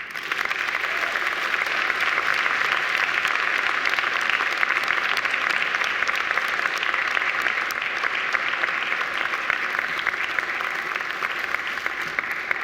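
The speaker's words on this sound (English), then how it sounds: "And now I invite you to give them a mighty round of applause." Seated university graduates turned around applauding their family and friends at a Macquarie graduation ceremony, a steady, sustained roar of many hands clapping at even loudness throughout.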